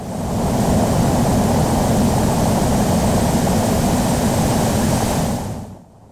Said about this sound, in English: this is how a takeoff is meant to be done, with the correct pitch, flaps and takeoff speed